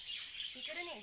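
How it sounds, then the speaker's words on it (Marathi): Short, faint chirps of birds twittering in the background over a breathy, airy ambience, brief and somewhat distant, in the Konkan countryside. "पक्ष्यांचा हा किलबिल आवाज"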